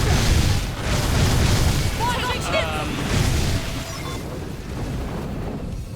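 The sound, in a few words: missile explosion in Xenoblade Chronicles X video game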